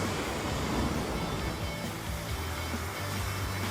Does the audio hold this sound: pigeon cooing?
no